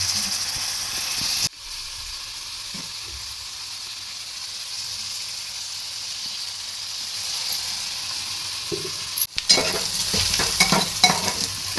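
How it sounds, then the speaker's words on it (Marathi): Onion being sautéed in a pan for a prawn fry, a steady close sizzle with stirring scrapes that grow busier and louder toward the end after a brief break. "कांदा व्यवस्थित परतून घ्यायचा आहे"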